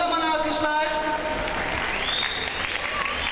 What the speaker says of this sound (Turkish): Fettah Can'a kocaman alkışlar